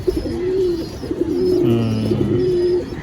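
Tumbler pigeons in a loft coo steadily in low, throaty, rolling calls, several birds overlapping close by with a faint hiss in the background.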